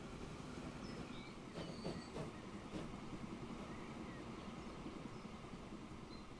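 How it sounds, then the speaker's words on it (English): Trains in the railway simulation game Transport Fever 2 rumble continuously, with a steady rolling drone and a few brief wheel squeals and clanks, and no voices. "We've got trains in the way all over the place."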